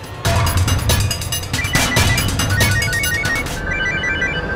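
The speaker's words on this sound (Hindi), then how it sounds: "अर्चना का फोन है" A phone rings with a repeating electronic melody over a loud, cluttered background of clattering and music-like noise.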